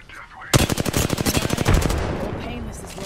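Automatic gunfire in the battle royale video game Apex Legends: a loud, rapid burst of about a dozen evenly spaced shots lasting over a second, ending in a heavier blast and a fading rumble.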